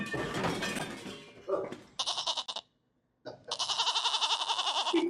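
Goat bleats repeat in two long, wavering, nasal calls, loud and near, after a stretch of talk and a short pause of silence.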